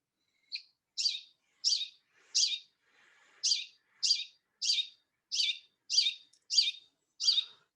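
A Hutton's Vireo sings a steady series of eleven short, identical rising notes, evenly spaced about half a second apart. The notes are clear and fairly close, with no other sound around them.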